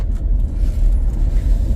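Steady low rumble of road traffic, cars idling and creeping along in a jam, a continuous dull drone with no clear passes or horns.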